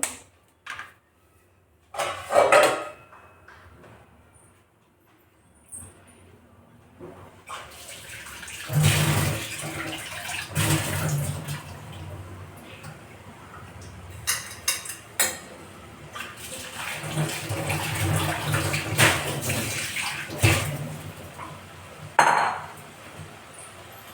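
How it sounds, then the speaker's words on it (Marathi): Water poured into a metal pot for melting chocolate in a home kitchen, with sustained running and splashing water, clinks of utensils and pot handling, close and fairly loud, no talk. "चॉकलेट मेल्ट करायसाठी मी एका पातेल्यात पाणी ठेवलं आहे"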